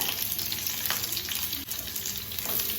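Whole cinnamon, cardamom and cloves sizzle in refined oil in a pan with garlic and ginger, a steady loud frying hiss that runs throughout, close up and without talk.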